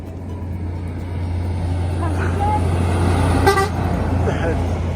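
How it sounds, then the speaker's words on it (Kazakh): A vehicle horn toots briefly on an outdoor road trip near Suusamyr, Kyrgyzstan, rising over a steady low engine hum with people talking nearby. "Сигнал берип коет папа."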